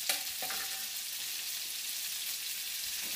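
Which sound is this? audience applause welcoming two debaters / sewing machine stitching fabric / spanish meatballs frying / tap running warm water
spanish meatballs frying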